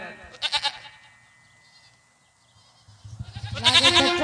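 A goat bleats at a folk bhagait dance performance, with two loud bursts of calls near the start and end separated by a quieter stretch, set over background music and stage sound.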